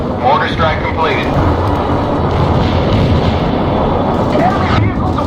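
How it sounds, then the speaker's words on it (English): Mortar strike explosions in the World in Conflict video game, a dense continuous rumble of blasts and battle noise, loud throughout, with radio-style voices of units talking over it. "Mortar strike completed."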